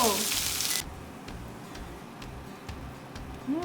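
Grilled chikuwa side dish stir-fried in a pan with sesame seeds, giving a steady soft sizzle with light ticking scrapes of a utensil, loud for the first moment then quieter and continuous.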